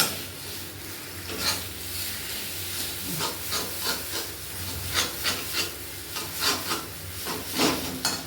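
Potato roll filling being stirred in a pan in a village kitchen, with a steady hiss and repeated soft scraping strokes in an uneven rhythm, close and moderately loud, with no talking.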